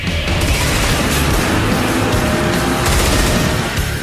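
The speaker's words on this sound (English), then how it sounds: "The submachine gun has a higher rate of fire, but shoots in limited bursts, followed by a short pause between rounds" Submachine gun fire in the Twisted Metal vehicle-combat video game, a loud, dense rattle of rapid shots running continuously with heavy booming impacts underneath.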